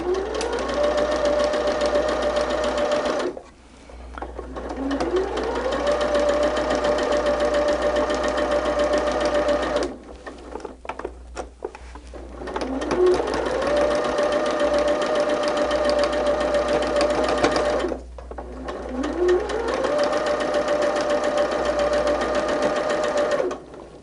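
A sewing machine stitches quilt seams in a pink pineapple-pattern quilt block, running in three long steady bursts with short pauses between them, loud and close with no talk.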